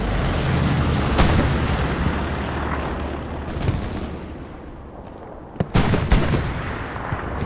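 Gunfire in the video game Hell Let Loose during an infantry squad battle: dense, continuous shooting and distant rumbling blasts throughout, with a few sharper, louder shots standing out near the end.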